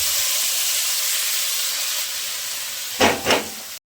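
Leafy greens drop into hot oil with popped mustard seeds, giving a loud, steady hiss and sizzle close by, with two stronger surging bursts near the end and no voices.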